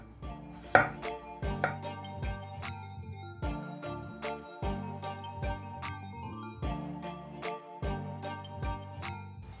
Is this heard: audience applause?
no